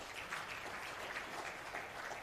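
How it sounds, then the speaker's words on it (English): Conference audience applauding a presenter, a faint, steady patter of clapping from a room heard at a distance. "can you join me now to applaud very, very heavily the presenter"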